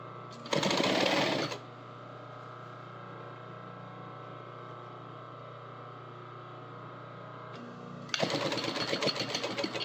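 A sewing machine stitches the yoke to the back panel of rain chaps, with two loud bursts of fast, steady stitching at the start and end and a quieter machine hum in between.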